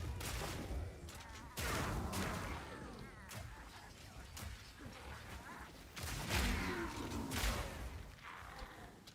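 Chunky shotgun blasts in the action RPG Path of Exile 2, a rapid run of loud, broadband bursts at around 0, 1.5, 3, 6 and 7.5 seconds over a dense layer of combat effects, with a voice talking along.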